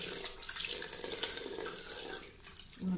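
Hot water runs from a sink tap onto a makeup remover wipe, a steady close splashing rush with faint dripping texture and no voices.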